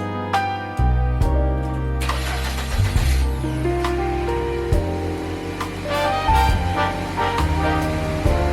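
A 2008 Saab 9-3 starts with a cranking whir followed by a mid-pitched idle that wavers in level, and a few sharp mechanical clicks sound over the engine.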